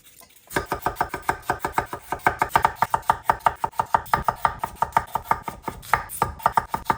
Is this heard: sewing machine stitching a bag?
no